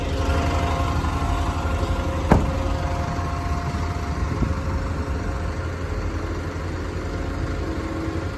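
A Hino 300 Series factory tipper truck running its PTO to raise the tray: a steady, moderately close diesel idle hum with a continuous mechanical drone and one brief sharp click partway through.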